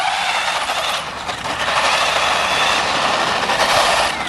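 A Tamiya Manta Ray RC car's 15-turn electric motor running flat out, a loud steady whine with a broad rushing roar that holds for several seconds.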